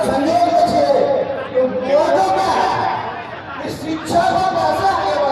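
A large crowd gathered at a political rally in Ujiyarpur, Bihar, producing a continuous babble of many voices, with nearer individual speakers rising out of the murmur.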